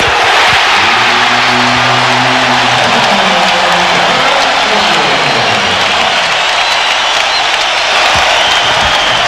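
A basketball arena crowd at a 1998 NBA playoff game between the Blazers and Lakers roars steadily throughout, a dense, loud wash of cheering and applause right after a Lakers three-pointer, with a faint low hum beneath.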